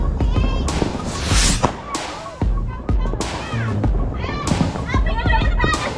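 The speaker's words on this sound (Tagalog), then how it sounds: "Siyempre magpapaputok din tayo." Sharp firecracker bangs pop off in quick irregular bursts at New Year's midnight, loud and close, with voices and lively commotion around them.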